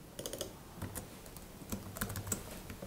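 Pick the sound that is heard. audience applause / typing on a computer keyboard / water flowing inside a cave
typing on a computer keyboard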